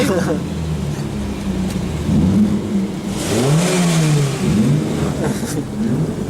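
A Polonez 1.6 car engine revving and accelerating nearby, pitch climbing and falling in repeated surges, with people talking over the engine noise.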